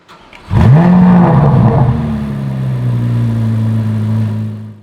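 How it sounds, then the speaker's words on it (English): A 2023 Chevrolet Corvette Z06 flat-plane crank V8 fires up and revs with a high-pitched, smooth wail, then settles into a steady, loud idle nearby. "It's a flat plane crank motor now, so it has a really high-pitched wail."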